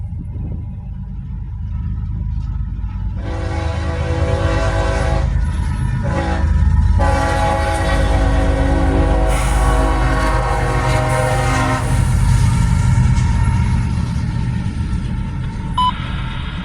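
A CSX freight train passes close by, its rumbling wheels and rail clatter filling the air while the horn sounds in long, loud, blaring blasts with a brief break between them.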